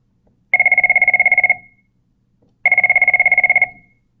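A landline telephone rings twice, each burst a loud, fast electronic trill about a second long, separated by a two-second silence.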